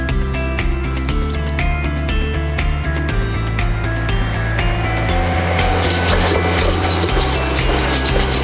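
A train rolls past on a nearby railway line near Maidstone, loud and close, with steady rumbling, clacking wheels and squealing tones shifting over the run, no voices.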